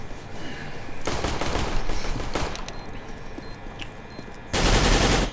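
Counter-Strike: Global Offensive AK rifle fire in bursts, with rapid rattling volleys that recur through the round, ending in a loud close burst.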